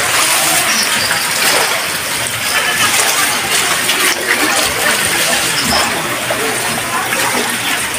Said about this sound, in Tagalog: Ayan po, pinakita ko po sa inyo yung labas. Bahang baha po talaga.